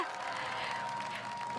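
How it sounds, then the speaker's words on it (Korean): A crowd applauds at a presidential campaign rally in Cheongju, North Chungcheong, producing a steady wash of clapping at moderate distance while a voice carries over it. "힘찬 박수 부탁드리겠습니다."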